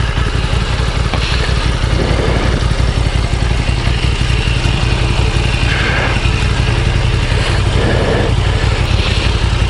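A Moto Guzzi V9 Roamer's engine runs steadily throughout, a loud, continuous low rumble with mechanical clatter, close up and without talk.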